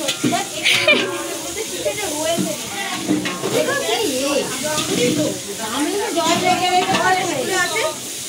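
Onions sizzling and frying in a pan at an outdoor picnic cooking session, with scraping stirs mixed into a steady hiss while several people talk loudly over it throughout.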